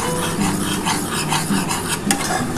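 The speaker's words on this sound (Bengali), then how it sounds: "এবার আমি কিন্তু জল দিয়ে দিচ্ছি।" Water poured into semolina frying in a hot pan, a loud close burst of sizzling and bubbling with scraping stirring against the pan, no voices.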